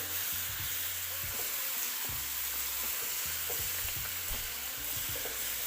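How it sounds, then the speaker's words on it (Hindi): Garlic paste fries with browned onions over a low flame for a chicken kofta curry, giving a steady, even sizzle punctuated by soft stirring scrapes. "हम इसके अंदर 1 गट्ठी लहसुन का पेस्ट शामिल करेंगे और इसको हल्की आंच पे भुनेंगे।"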